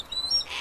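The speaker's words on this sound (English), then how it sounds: "That's a typical call from an owl." Short owl call at a falconry and conservation centre, a clear tonal hoot-like whistle lasting under a second, close and fairly loud with no talk over it.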